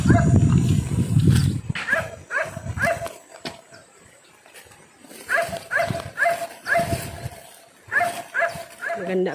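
A dog barks in repeated short bursts on a rural farm in Lagonoy, Camarines Sur, during rain. The barks come in clusters with pauses between them, and people talk nearby.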